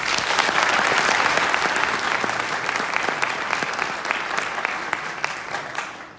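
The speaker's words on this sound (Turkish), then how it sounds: "Kendi çocuklarımızı bir alkış daha istiyoruz" Sustained applause from a large theatre audience in Kars, dense and even at first, then gradually thinning and fading toward the end.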